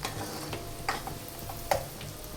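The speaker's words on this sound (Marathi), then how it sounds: "कांद्याला कधी पण लाल होऊ द्यायचं चांगलं तेलामध्ये, बटरमध्ये" Onions fry in butter and oil with a continuous close sizzle. A few sharp utensil scrapes and stirs punctuate it, and no voice is heard.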